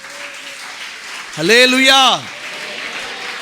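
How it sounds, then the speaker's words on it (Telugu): A Sunday worship congregation claps under a loud shouted voice, producing a steady wash of applause that swells briefly and carries on at a lower level around the speech. "చప్పట్లు కొట్టి గట్టిగా చెప్పండి"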